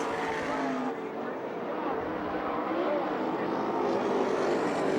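USAC National and CRA sprint cars race around the track at Phoenix, their engines making a continuous roaring drone heard from the stands. A commentator's voice is faintly audible in the mix.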